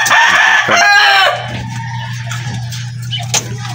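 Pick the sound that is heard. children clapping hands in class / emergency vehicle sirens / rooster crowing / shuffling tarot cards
rooster crowing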